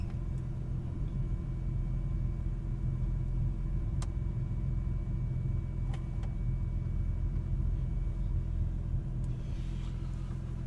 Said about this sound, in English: I'm going to let the car idle for about 10 or 15 minutes